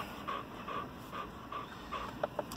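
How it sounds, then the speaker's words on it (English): A hot dog pants steadily on a mild 65-degree day, with soft, quick rhythmic breaths repeating about every half second, close by but faint, with no talking. "You can hear her panting."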